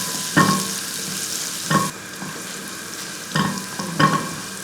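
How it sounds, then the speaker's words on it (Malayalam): Garlic fries in a pan for an onion curry, a steady sizzle broken by several sharp scraping stirs of a spatula, close and fairly loud. "ഇപ്പം വെളുത്തുള്ളിയൊക്കെ ഇതേപോലെ ഒന്ന് ചെറുതായിട്ടൊന്ന് മൂത്ത് വരുന്നുണ്ട്."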